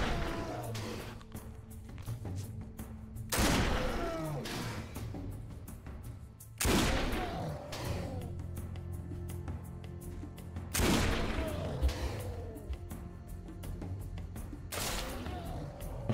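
Pistol shots in the video game Risen 2: Dark Waters, four sharp broadband bangs spaced several seconds apart over a steady game soundtrack, each blast loud and followed by a brief decaying tail.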